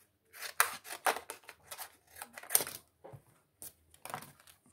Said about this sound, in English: we've got a empty tuck box we're going to cut up